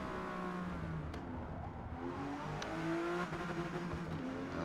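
Mazda RX7 rotary engine in Forza Motorsport at Yas Marina, droning and shifting pitch as the car slows for a tight first-gear corner and accelerates out, with a brief tire squeal, fairly faint and steady.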